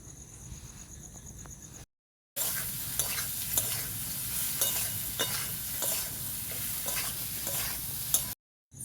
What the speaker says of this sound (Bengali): দিয়ে দেবো সিদ্ধ করা আলু, সব আমি ভালো করে কষিয়ে নেব।